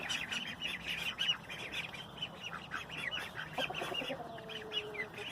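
A flock of ducks and chickens nearby, with overlapping clucks, quacks and squawks in an irregular, busy chatter.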